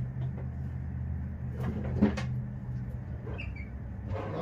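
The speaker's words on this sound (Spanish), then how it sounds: "Vamos a ver qué hay en los cajones." Drawers being opened and rummaged through, with a few scraping slides and knocks over a steady low hum.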